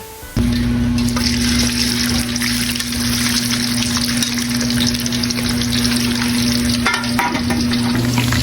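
Chicken feet deep-fry in hot oil with a loud, steady sizzle and bubbling that starts abruptly and keeps going throughout, under a constant low hum.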